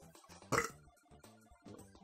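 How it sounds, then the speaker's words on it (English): A single loud, deep burp erupts in the middle of a stretch of voiced, grunting sounds and stands out as the loudest moment. "That was a power burp."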